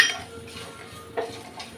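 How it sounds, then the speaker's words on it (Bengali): Whole coriander seeds stirred and fried in a metal pan, a spatula scraping with a few light metallic clinks over a soft background sizzle, close and fairly quiet. "ভালোভাবে আমি এইভাবে একটু নেড়ে চেড়ে নেব, নিয়ে একটু ভেজে নেবো, ব্রাউনি করে ভেজে নেবো"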